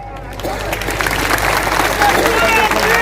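Crowd at a BJP political rally in Paidapur applauding steadily throughout, a dense wash of clapping with crowd murmur underneath, fairly close and sustained.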